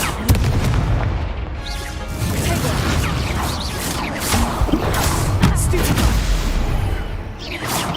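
A Confringo fire spell in the Hogwarts Legacy video game lets off loud booming blasts and crashes amid dense, continuous combat noise, with bursts recurring throughout.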